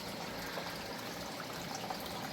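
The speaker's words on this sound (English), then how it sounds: "It drips in fresh water. And that water drops down into the creek here and flows on down through." Fresh water pumped through a pipe trickles and drips into a creek, a steady, continuous wash of splashing water with no voices.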